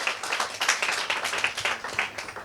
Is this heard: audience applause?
yes